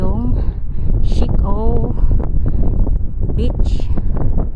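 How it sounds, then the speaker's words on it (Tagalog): Strong wind buffets the microphone in a steady, roaring rumble, with people talking over it throughout, on Shek O Peak along the Dragon's Back hike in Hong Kong. "Lakas ng hangin."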